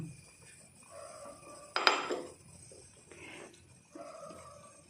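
Crushed ginger, chilli and garlic go into a pot of sardine curry: a sharp metallic clatter of a utensil against the pot, then softer intermittent scraping while it is stirred, close and fairly quiet.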